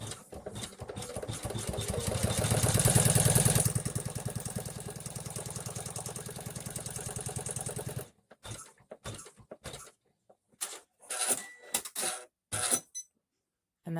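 A home embroidery machine stitches the applique tack-down on a Multipass vaccine card holder design, a steady close rapid mechanical chatter that runs for about eight seconds, then gives way to short separate bursts with quiet gaps between them.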